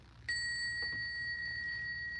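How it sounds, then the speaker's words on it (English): A small bell is struck once during a spiritual tarot-style reading, giving a clear, sustained metallic ring that lingers and slowly fades in a quiet room. "Let's ring the bell for Sag."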